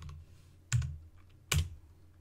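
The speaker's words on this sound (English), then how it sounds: "So we're going to type in stuff." Typing on a computer keyboard while working in a terminal, two distinct clacky keystrokes less than a second apart, close and fairly quiet against a soft background hum.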